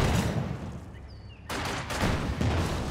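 Sustained gunfire from the video game Company of Heroes 2 aimed at building windows, a dense loud rattle of shots and impacts that dips briefly then resumes at full force.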